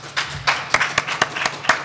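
Audience members at a live podcast taping at a comic convention clap their hands in a brief scattered burst, several distinct claps in uneven rhythm, fairly close and loud.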